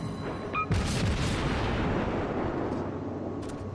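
Main guns of the Japanese tier IV cruiser Kuma firing in World of Warships: a loud boom near the start rolls into a long, dense rumble that fades slowly, with no talk.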